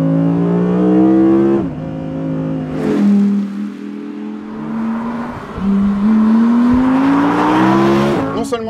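A Porsche 911 S/T sports car engine revs loudly to very high rpm, around 8500, in repeated rising pulls with brief dips at gear changes and a sharp upshift near the end.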